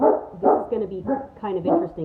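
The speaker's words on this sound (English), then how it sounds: "sorry for my dog in the background there." A dog barks repeatedly in the background of an indoor room, several sharp woofs in a loose rhythm under a person speaking nearby.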